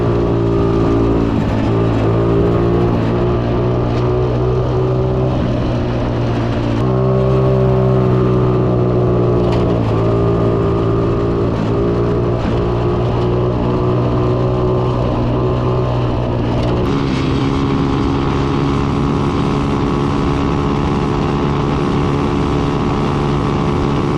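A big bore 2016 Maddog Honda Ruckus clone scooter on a ride, its small engine droning loud and steady with throttle changes and brief dips in pitch.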